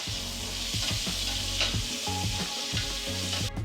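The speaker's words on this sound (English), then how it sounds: "our bacon continues to render" Bacon rendering in a pot for a one-pot beef stew with potatoes gives a constant close, dense sizzle and pop with a low underlying hum, and no voices.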